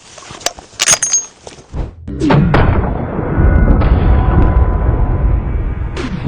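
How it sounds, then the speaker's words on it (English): Rifle shot fired at a row of ten frying pans lined up outdoors: a sharp loud bang with metallic clanging and impact thuds, followed by a sustained rumbling roar and noise that fills the rest of the moment. "All right, firing."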